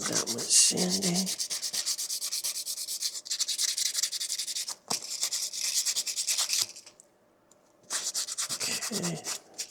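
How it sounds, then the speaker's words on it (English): Sanding a 3D printed Wolverine claw part: close, rhythmic back-and-forth rasping strokes in rapid repeated bursts, with a short pause before the scraping resumes. "So it doesn't need that much sanding."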